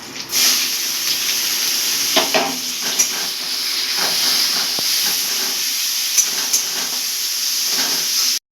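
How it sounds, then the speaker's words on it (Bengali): Grated onion hits hot frying oil and sizzles with a loud, steady hiss that holds throughout and cuts off abruptly at the end. "এটা হালকা লাল ভাজা করে তারপর আমি এর মধ্যে পেঁয়াজ কুচিটা দিয়ে দেবো"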